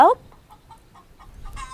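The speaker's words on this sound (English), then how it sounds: "that's a chicken or a rooster." A chicken or rooster in a farm scene of a children's reading app gives a sharp, close cluck at the start, then a run of soft, evenly spaced clucks, ending in a brighter squawk.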